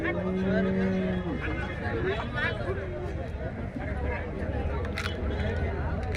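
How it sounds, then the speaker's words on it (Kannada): Busy cattle market ambience at Sindhanur, with a loud cow moo near the start, voices chattering throughout and general crowd bustle. "ಈ ಥರ ಎಲ್ಲ ಹಸುಗಳು ಬಂದಾವೆ ಸಿನ್ನೂರು ಸಂತೆಯಲ್ಲಿ"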